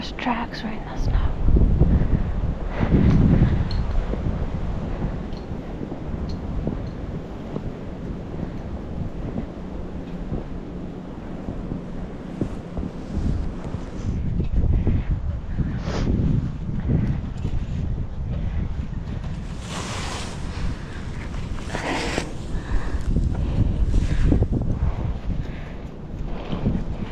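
Wind gusts roar across the microphone in a snowy woodland area during a muzzleloader deer hunt, a rough low rumble that swells and eases over the whole stretch while people talk quietly at times.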